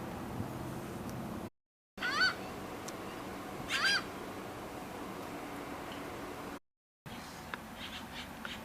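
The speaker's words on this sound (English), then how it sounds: "You hear the seagulls? And the seagulls are waiting here." A few seagull calls ring out over steady outdoor rumble in Galveston, two brief cries standing out clearly against the background noise.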